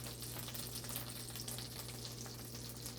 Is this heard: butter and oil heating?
yes